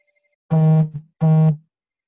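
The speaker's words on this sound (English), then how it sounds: "You got to get rid of that modem." Two loud, harsh electronic buzzing tones, each about half a second long, come over a virtual meeting's phone line as modem-like noise, preceded by a faint beeping and followed by silence.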